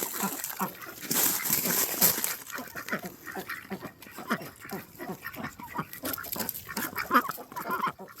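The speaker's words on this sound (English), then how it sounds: "just give a little bit of our ducks being funny" Ducks quack and honk in rapid, overlapping bursts close by in their duck run, a busy, noisy chorus throughout with a few sharp calls standing out.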